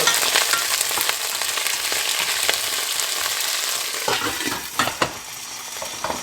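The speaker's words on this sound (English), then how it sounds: "when you fry like this, it gets nice flavor also" Food sizzles steadily in a hot pan, a constant crackling hiss with a few clinks of a utensil stirring near the end.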